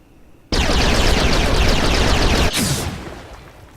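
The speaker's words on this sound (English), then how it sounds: "Oh, you call that a bloody sniper rifle?" Sniper rifle fire in Star Wars The Old Republic: a loud, dense burst of shots starts abruptly and runs steadily for about two seconds, then cuts off into a sharp crack that fades out.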